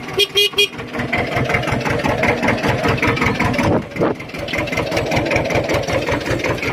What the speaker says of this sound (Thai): ดูตาการเร่งนะครับ เครื่องแรงนะครับ แต่ดัง